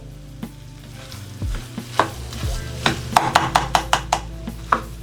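Rice being stirred with tomato paste in a pan for Southern red rice, a steady scraping stir with repeated sharp spoon taps against the pan over a low sizzle, close and fairly loud with no talking.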